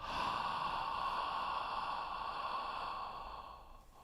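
Steady, drawn-out exhalation during an abdominal breathing exercise in voice-actor physical training, a continuous airy rush lasting several seconds and fading slightly at the end, with no talking.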